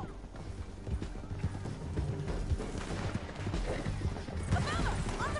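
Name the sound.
horse hooves galloping, from a video game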